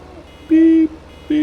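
A vehicle in the farming video game Farming Simulator 15 gives two clear electronic beeps close up. The first beep is longer and the second is short, over a low background hum.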